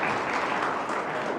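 Audience clapping at a Brahma Kumaris gathering in Talewadi, Sangli, a thick, continuous wash of many hands beating together at even volume throughout, with no voices standing out.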